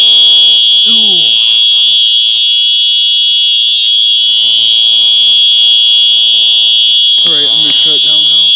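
Simplex fire alarm sounding during a test, a loud continuous electronic tone blaring without a break throughout, with brief speech in the background.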